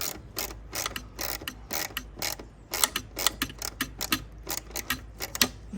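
Ratchet wrench with a 7 mm socket turning bolts during a Volvo XC90 air tube replacement, a rapid close series of sharp clicking bursts in a steady rhythm with brief pauses.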